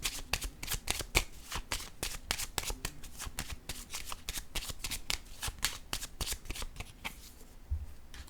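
Tarot cards being shuffled by hand, a close, steady stream of crisp riffling clicks and slaps lasting several seconds with no talk.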